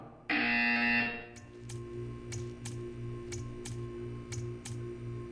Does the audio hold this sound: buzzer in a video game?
yes